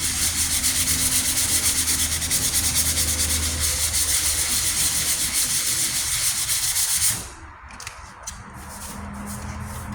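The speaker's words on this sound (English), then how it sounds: "The reason why I went to 220 grit, I just want to remove some of those sanding scratches." Hand sanding a rusty 1998 Ford Ranger tailgate with 220 grit sandpaper: steady, close, continuous rough scratching strokes that stop abruptly about two-thirds through, leaving a quieter background.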